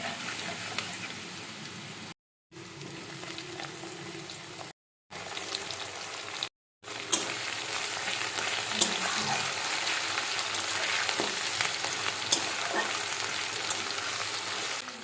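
Garlic paste and chopped onion fry for a mutton curry, a steady crackling sizzle broken by a few short silent gaps, then running on continuously with occasional louder pops.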